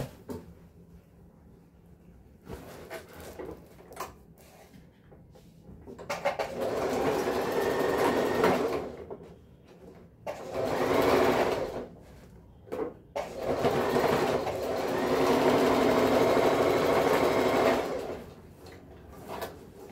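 A sewing machine stitches the seam of a waterproof thermal lunch bag, running in bursts of steady whirring stitching separated by short pauses and softer handling noises, close and fairly loud.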